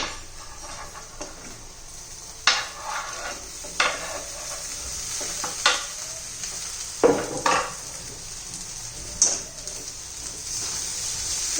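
Okra (bhindi) tossed into a pan with a little peanut powder, stirred over medium heat with a soft steady sizzle and several sharp spatula scrapes and clinks against the pan.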